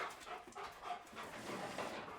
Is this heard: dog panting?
yes